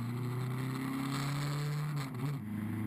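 A VW Funcup race car at Mettet during a 12-hour endurance race, heard as a steady droning engine note from inside or close by that shifts pitch slightly as it rises and dips, fairly faint and with no talk.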